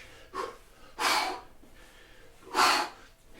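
Heavy breathing during a HIIT workout, heard as three separate forceful breaths, in and out, close to the microphone, with quiet pauses between them.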